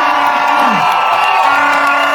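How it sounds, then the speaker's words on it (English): A lively crowd cheers, whoops and ululates in warm celebration for a Kisii wife at a community gathering, a dense continuous roar of voices with rising trilled calls throughout. "The crowd responded warmly with applause, ululation, and dancing."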